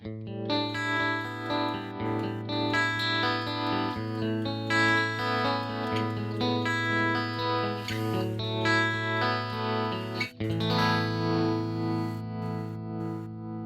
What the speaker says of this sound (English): Let's next check out the bias tremolo setting.